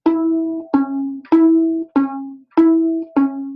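Two bowed violin notes alternate back and forth in a steady pattern, three times each, sustained and close.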